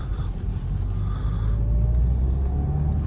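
A 2015 Peugeot 308 with a 1.6 turbo diesel and six-speed manual gearbox accelerates, its engine giving a steady low rumble and faint rising whine from inside the cabin, with no talk.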